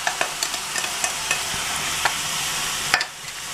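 Onion paste and ground spice paste fry in a pan for egg chop curry, a steady close sizzle broken by sharp clicks and scrapes as the mixture is stirred.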